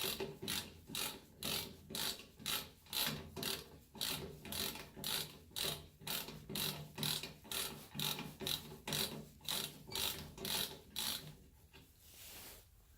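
An old ratchet, freshly revived after work on a Jeep with a 10mm socket, clicks in a steady rapid rhythm of roughly two strokes per second, close and crisp, with no talking, fading out at the end.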